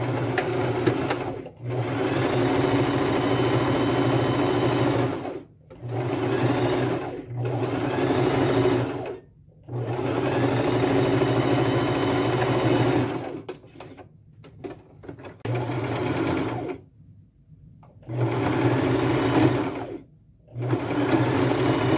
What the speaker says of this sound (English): I go back to my machine and I continue stitching and pleating that little piece back in place.